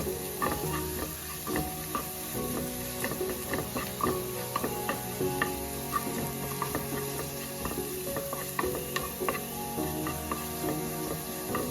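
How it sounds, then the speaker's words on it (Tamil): Steady sizzling and frying in a pan with frequent scraping and stirring clatter, continuous and fairly close, no talking. "போட்டு இதை அப்படியே நம்ம வந்து ஸ்டிர் ஃப்ரை பண்ணி"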